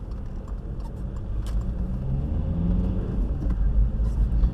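A Volkswagen Golf with a 1.9 engine drives on the road, heard from inside as a steady low rumble of engine and road noise that swells slightly, with no talking.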